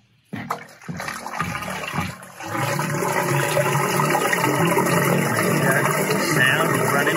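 Water pouring steadily from a swivel pipe out on a farm ridge line after heavy rain, a loud continuous rushing flow that starts in brief bursts and then runs without break.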